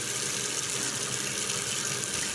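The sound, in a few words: pressing water out of dyed yarn skeins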